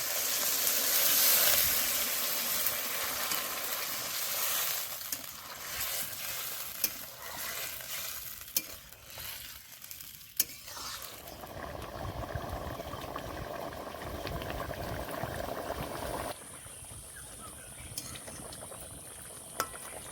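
A vegetarian pumpkin and potato curry cooks in a pan as water is added, a faint sizzle and stirring giving way to soft, steady bubbling close by.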